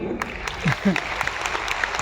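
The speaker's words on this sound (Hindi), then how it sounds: "शादीशुदा लोगों के लिए ताली हो जाए" Seminar crowd applauds married attendees at a direct-selling event, scattered clapping from many hands under a speaker's voice briefly talking over it.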